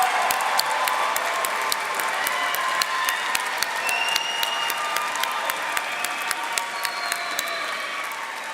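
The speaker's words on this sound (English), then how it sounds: "Turn around, find your parents, grandparents, brothers, sisters, spouses, and give them a round of applause." Graduates at a graduation ceremony give their families a round of applause, a steady wash of clapping from a large crowd in a big hall, sustained throughout and fairly loud.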